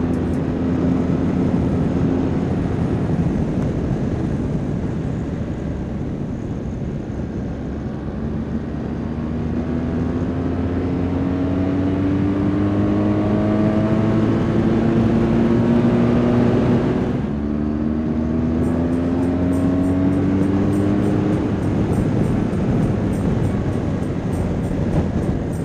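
A BMW R1200 GS Adventure motorcycle on the move, with a steady engine drone under rushing wind and road noise and smooth pitch rises through the gear changes, continuous and close throughout.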